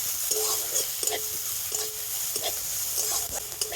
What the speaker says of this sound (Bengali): তো আদাটাও তেলের সাথে একটু ভেজে নেব